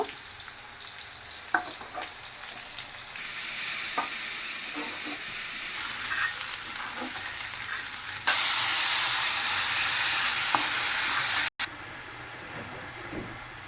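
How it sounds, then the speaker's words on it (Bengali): Onions fry in a pan for a spice paste, making a continuous sizzling hiss with occasional stirring scrapes; the sizzle swells louder partway through and cuts out briefly near the end. "পেঁয়াজ ভাজতেছি মশলা কষানোর জন্য"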